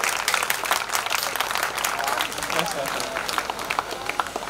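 A crowd at a cyber crime awareness event in Nagpur claps with uneven, crackling applause, loud and close, while speech is also present.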